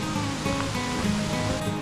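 A mountain waterfall along a Jirisan hiking trail in South Korea, a constant dense roar of rushing water heard close and loud without pause.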